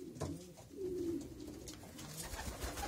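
Soft, low pigeon coos rolling on and off over a muffled, busy background, fairly faint and close.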